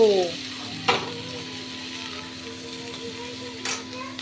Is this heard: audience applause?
no